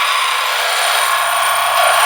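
A power grinder runs steadily, grinding down an agate stone, a continuous high whine with a low hum underneath that grows slightly louder near the end.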